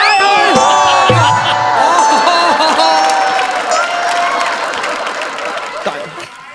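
A studio audience on a Marathi comedy show breaks into loud, sustained applause and cheering, with bursts of laughter and whoops mixed into the crowd noise, fading slightly toward the end.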